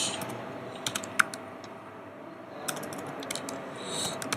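Keys tapping on a computer keyboard while a MySQL command is entered, a steady run of light, close clicks with a few brief pauses, no voices.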